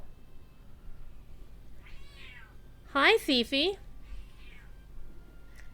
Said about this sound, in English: You big dumb cat.